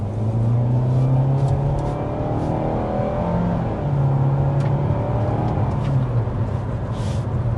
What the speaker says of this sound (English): there's an acceleration up to close to 60 miles an hour